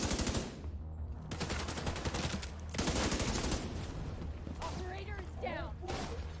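A police MK-17 semi-auto rifle fires in a first-person shooter game, a fast run of sharp evenly spaced shots with mechanical clatter, under a player's talking.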